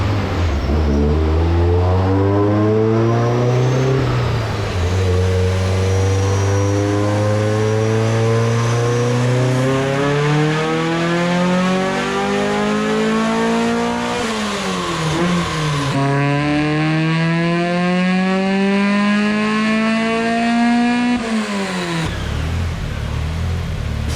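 A nitrous-fed Dodge Neon screams on a dyno, its engine climbing hard through high RPM in long sustained pulls with brief dips between, loud and close, up toward 7500 rpm.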